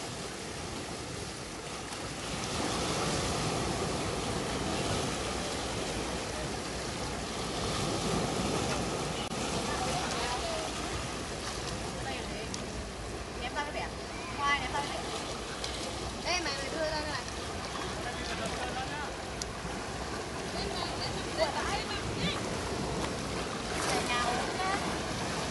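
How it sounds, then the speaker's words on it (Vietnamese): Strong sea waves surge and crash against the Móng Rồng rock formation on Cô Tô island, Quảng Ninh, making a loud, continuous roar of churning surf with wind noise and people talking at times. "Sóng cực mạnh rồi."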